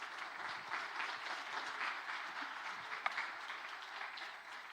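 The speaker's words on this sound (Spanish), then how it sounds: "Den un aplauso al Señor por nuestros cuates en Argentina." Applause from a church congregation during a Spanish-language sermon, a steady, fairly faint wash of clapping that holds evenly throughout with no voices over it.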